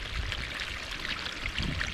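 Water flows over a placed stone into a freshly filled koi pond, a continuous splashing rush and pour close by, steady with a slight surge near the end.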